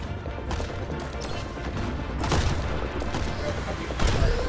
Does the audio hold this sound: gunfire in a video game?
yes